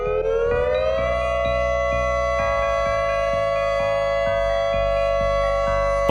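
Moderator civil defense siren sounding loud and steady on its own, a wailing harmonic tone that rises in the first second and then holds high and sustained, with a low rhythmic mechanical chopping beneath it.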